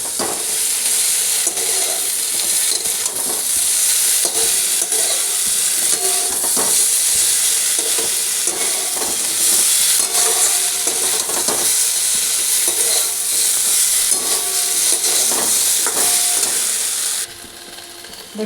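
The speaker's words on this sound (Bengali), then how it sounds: "এবার মশলাটা ভালো করে দিয়ে ভাজবো।" A cumin-coriander masala with green chillies and tomato sauce fries loudly in a pan for an okra curry. A dense, continuous sizzle runs throughout, broken by scraping stirs, and it drops off sharply near the end.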